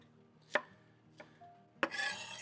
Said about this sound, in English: So we cut up our onions very small.